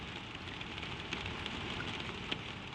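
Gentle rain falls steadily against a window, a soft continuous hiss with scattered faint drop ticks, quiet and even throughout with no voices.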